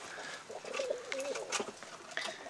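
Soft, low tumbler pigeon coos repeat a few times at close range, with faint rustling and chirps in the background.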